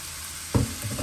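Bacon fries in a skillet, giving off grease: a soft steady hiss, then a louder burst of sizzle and scraping partway through, close by with no talking.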